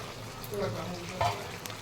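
Chicken pieces frying in a pan for a Bengali kosha chicken, a soft, low sizzle with a couple of stirring scrapes, faint and steady.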